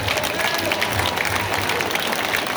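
A crowd applauds steadily at a country music festival in Louiseville, a dense wash of clapping that holds at an even level throughout.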